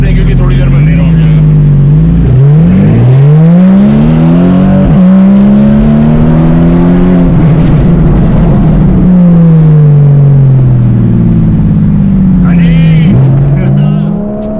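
A car engine revs and shifts through gears on a joy ride across the Worli Sea Link, loud and close, with rising and falling pitch sweeps as it accelerates and a steady road roar underneath.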